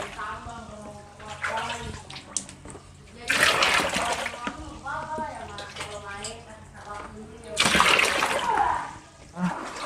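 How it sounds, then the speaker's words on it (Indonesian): Water poured into an outdoor container for raising water fleas, splashing and gurgling in uneven surges with a couple of louder pours, while a person talks throughout. "Beri air secukupnya saja."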